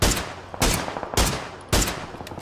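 Gunfire in PUBG (Battlegrounds): four loud, evenly spaced shots roughly half a second apart, each a sharp burst that tails off into a noisy decay, with no talking.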